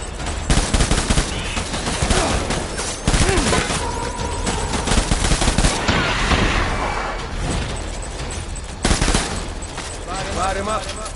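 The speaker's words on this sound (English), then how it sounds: "Open fire." Heavy gunfire from the video game Death Stranding, with dense fusillades and machine-gun bursts crackling almost continuously, loudest in sharp volleys near the start, middle and end. Voices speak intermittently beneath the shooting.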